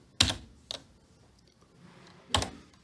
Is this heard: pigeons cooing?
no